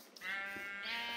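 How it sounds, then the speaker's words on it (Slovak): A Minecraft sheep lets out one short, nasal bleat, close and clear, with no talk over it. "Ovce!"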